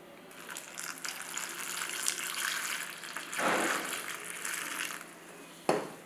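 Tap water runs steadily into a sink while mushrooms coated in maida flour are rinsed by hand, with quiet splashing and a few louder bursts of water and handling noise.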